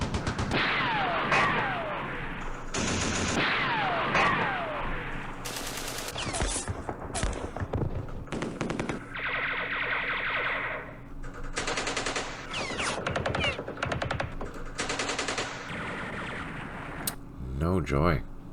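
Repeated heavy bursts of recoilless rifle fire in the Campaign Series Middle East war game, Battle of Jerusalem, booming loudly in a dense run over other battle noise and occasional talk.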